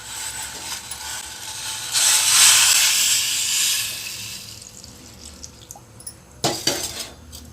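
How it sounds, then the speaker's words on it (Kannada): Chopped bottle gourd being washed under running tap water, a rushing hiss of water that swells for a couple of seconds and then fades, followed by a few clinks and splashes near the end. "ಈಗ ಇದನ್ನು ಚೆನ್ನಾಗಿ ತೊಳೆದು ಇದನ್ನು ಬೇಯಿಸ್ಕೋಬೇಕು"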